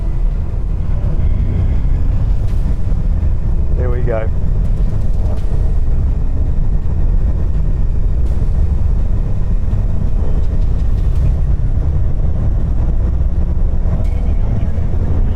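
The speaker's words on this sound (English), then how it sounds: "Wait for all engines to engage." The world's largest aircraft on its takeoff roll, racing a Porsche, its engines producing a loud continuous roar that stays heavy throughout, with a brief spoken remark over it.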